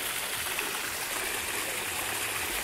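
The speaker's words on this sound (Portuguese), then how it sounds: "a cascata sai direta da piscina" A waterfall cascades straight out of a swimming pool at a contemporary mansion, a steady, broad rushing of falling water heard close and continuous with no talk.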